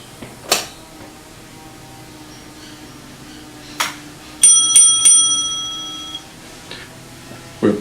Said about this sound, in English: the sound of 3 beats on the block bells